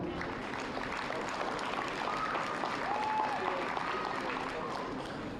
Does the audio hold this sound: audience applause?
yes